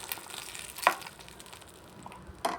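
Mustard seeds, cumin, coriander and curry leaves tempering in hot oil for idli peanut chutney give a steady crackling sizzle, with two sharper pops standing out near the start and end, close and moderately loud, with no voices.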